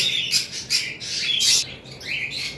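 Lovebirds in a large breeding collection chirp and call in quick, bright bursts, several overlapping tweets rising and falling over a low steady background, fairly close and with no talking.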